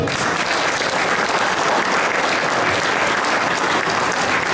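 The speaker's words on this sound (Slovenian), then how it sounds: "seveda tudi en velik aplavz" A large audience applauding at a book launch on the history of healthcare and medicine in Ljubljana, loud, dense and sustained clapping with no break.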